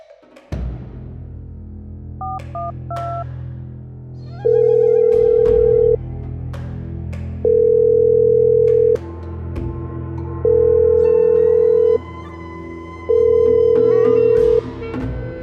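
A phone rings back repeatedly: steady tonal beeps at regular intervals, four long rings with quieter musical background between them, nobody answering.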